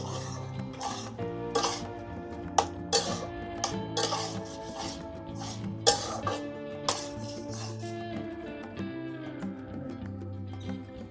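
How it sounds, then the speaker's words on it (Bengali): Raw mango chutney with cashews and raisins is stirred in a pot, a spoon scraping and clinking against the metal in irregular taps over soft background music. "এই সমস্ত কিছু ভালো করে মিশিয়ে নিচ্ছি।"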